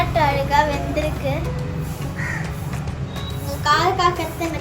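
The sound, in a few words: crow cawing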